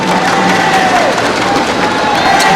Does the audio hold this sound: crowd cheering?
yes